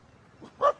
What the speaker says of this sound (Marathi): कुत्री